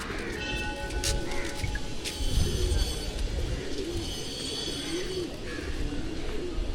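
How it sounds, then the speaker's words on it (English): Temple pigeons in Nepal coo in soft, repeated low murmurs amid a busy outdoor crowd hum, with occasional flutters and distant chatter around them. "So many pigeons."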